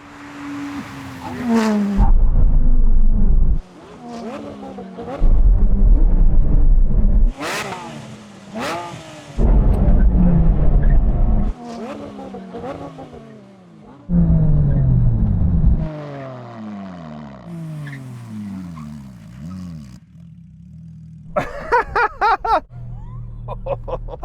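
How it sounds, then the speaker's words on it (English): Porsche 911 GT3 RS cars roar loudly, with repeated bursts of engine noise rising and falling as the engines rev and gear changes sweep the pitch, then die away into wind noise and rumble, with a few sharp pops near the end. "Brake test from 100 miles an hour."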